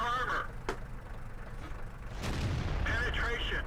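Tank cannon shots in World of Tanks, from a match with the AT7 tank destroyer. Two sharp booms ring out with a battle hum throughout, and a whining mechanical tone comes in at the start and again near the end.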